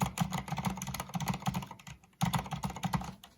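Rapid typing on Cherry MX Silent keyboard switches fitted with O-rings, a dense, muffled patter of close key presses with a short pause midway before the clatter resumes.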